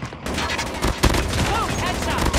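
Rapid video game gunfire crackles in dense bursts with a sharp louder report midway, steady and close throughout, with a voice partly heard beneath the shots.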